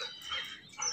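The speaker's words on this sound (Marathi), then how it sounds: "चिमण्या आहेत. बसलं ते ओरडत." Sparrows chirp in a quick, faint burst of bright tweets from a terrace, brief and unaccompanied by talk.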